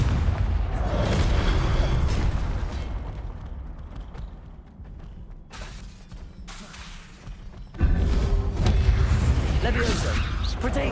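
Booming magical blasts from the Confringo spell in Hogwarts Legacy, a loud rumbling burst, a quieter lull, then another heavy explosion that roars on under the game's ambience.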